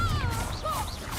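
A short blasting spell in Hogwarts Legacy, a quick whooshing magical burst with swirling tonal tails, heard close and fairly loud amid game effects.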